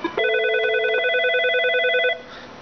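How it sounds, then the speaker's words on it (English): A Nortel SIP phone rings when called, sounding a loud, steady multi-tone electronic chirp for about two seconds before cutting off, with no voices. "So now I can give this phone a call."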